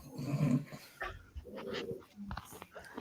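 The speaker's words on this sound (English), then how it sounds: "Oh no, he's still growling." Low dog growl rumbling at close range in a quiet indoor room, broken by short sniffs and whimpers, faint and intermittent.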